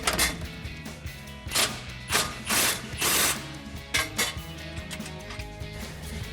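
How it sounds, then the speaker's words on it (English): A socket wrench ratchets on a frame bolt of a Jeep Gladiator JT, a 16mm socket turning in loud, close metallic clicking bursts separated by brief pauses, with faint workshop clatter underneath. "we'll grab that 16mm socket for the bolt"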